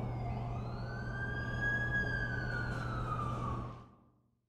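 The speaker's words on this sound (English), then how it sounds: "That's the ambulance I called." An ambulance siren in the Amazing Spider-Man 2 video game wails in one long rising and falling sweep over a low engine hum, loud and near, then cuts off and fades to silence.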